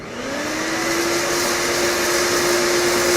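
A vacuum conveying system starts up and begins loading material, its motor whine rising in pitch and then holding a loud, steady roaring hum, with no talking.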